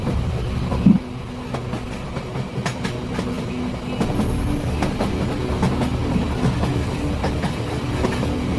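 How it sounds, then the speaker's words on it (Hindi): A cartoon train in a haunted-train horror story starts and pulls away from a station, giving a steady, fairly loud rumbling clatter of wheels on rails with a rhythmic click over eight seconds and no voices. "फिर चापी ट्रेन स्टार्ट हो जाती है और यहाँ से आगे चली"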